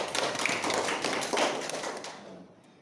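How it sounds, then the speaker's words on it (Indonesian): Children in a first-grade primary school classroom clap together during a maths microteaching lesson, a dense patter of hand claps lasting a couple of seconds before trailing off. "Tepuk tangan untuk Mas Jack"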